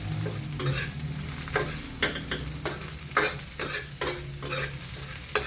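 Shrimp paste (bagoong) with chili being stirred and fried for ginataang bagoong, with a steady close sizzle under repeated scraping strokes of a utensil in the pan.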